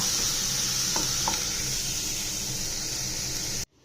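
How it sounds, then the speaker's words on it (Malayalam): Ingredients sautéing in a pan, with salt added, for a sweet potato snack: a steady close sizzle runs throughout, broken by a couple of faint stirring clicks, then cuts off abruptly near the end. "ഒന്ന് വഴറ്റിയെടുക്കണം അതൊക്കെ ഒന്ന് വെന്താൽ മതി"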